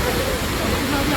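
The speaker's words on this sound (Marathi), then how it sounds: "भागीरथी नदीवरचा खेडी वॉटरफॉल" Khedi waterfall on the Bhagirathi river on the way to Gangotri pours with a loud, steady roar of rushing water close by, filling the whole moment without pause.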